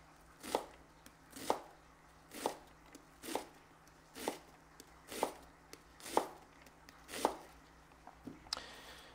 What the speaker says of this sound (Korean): 그 다음은 양파를 채썰 거예요.